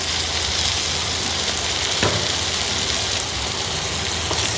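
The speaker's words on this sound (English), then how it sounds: "At this point, I am going to add in sliced tomatoes." Sliced tomatoes and green chilies fry in a cooker, giving a loud, dense, unbroken sizzle close up, with a couple of faint clicks along the way.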